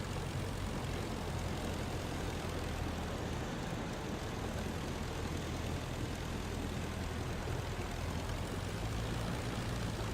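A propeller biplane taxis and takes off in the Rise of Flight combat flight game, a constant loud droning engine roar with a steady buzzing hum throughout and no voices.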